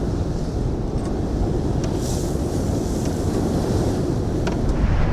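Stormy sea with crashing waves and strong wind along Blackpool's New South Promenade, a loud, constant roaring rush with heavy wind buffeting the microphone and no voices.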